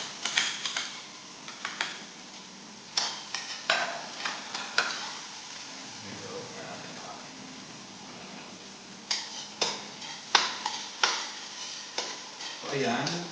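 Onion sautéing with garlic in a pan for coconut chicken tinola with kamias, a quiet sizzle punctuated by clusters of sharp spoon knocks and scrapes against the pan, with pauses between.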